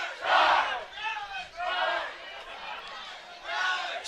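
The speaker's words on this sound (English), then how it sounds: "San Diego Growlers home crowd coming to life with some customized cheers here right below our press box" Home crowd at an AUDL ultimate frisbee playoff game chants customized cheers from the stands, rhythmic bursts of group shouting that rise and fall, moderately distant.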